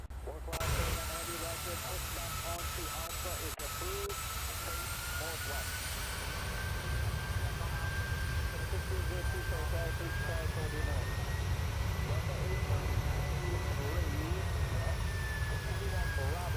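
A PMDG 737-800 jet landing in Microsoft Flight Simulator, a steady loud engine roar with a rising whine and rumbling rollout, and a faint voice underneath.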